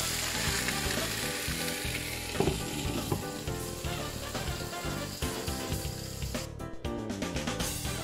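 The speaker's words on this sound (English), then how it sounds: "Remember to cook the sausage until they're no longer pink." Sliced, pre-cooked sausage sizzles and crackles steadily as it fries in a pan, a dense close hiss with small pops and occasional stirring clatter throughout.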